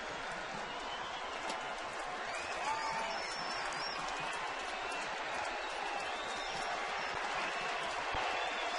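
A baseball stadium crowd of about 43,000 at a Dodgers versus Giants game roars in a steady, dense wash of cheering and clapping, distant and sustained without a break.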